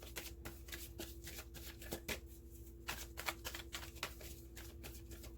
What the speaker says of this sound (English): Nice smooth shuffle.